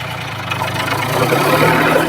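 A Yanmar F-180 tractor engine runs loudly in third gear, a steady close mechanical drone with a low rumble and little variation over a couple of seconds.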